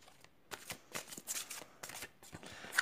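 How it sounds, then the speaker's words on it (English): Tarot cards shuffled by hand make a series of quick, crisp riffling bursts that come in an irregular rhythm, soft and close, with no voices. "then I do like to shuffle as the energies are flowing while I'm recording"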